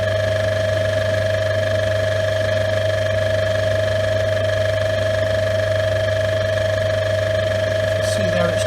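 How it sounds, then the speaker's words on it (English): A lathe runs steadily with a constant motor hum and whine while a piece of aluminium is held against a spinning engine valve to scrape its face, diameter and seat, giving a faint scraping texture over the drone. "what I'm going to do is start the lathe, and then with my aluminium I can scrape it like this"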